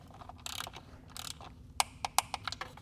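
A ratchet turns bolts on a BMW B58 water pump, giving two short bursts of rapid clicking followed by a series of sharp, separate metallic clicks, close and fairly quiet.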